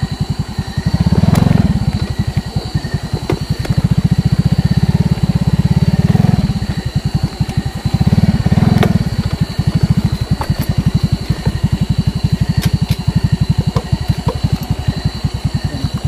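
A motorcycle engine idles close by with a steady rhythmic putter, briefly revving louder a few times before settling back to idle.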